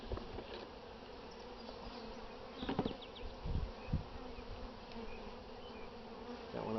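Honeybees buzzing steadily and close during a spring hive inspection, with a few handling knocks in the middle.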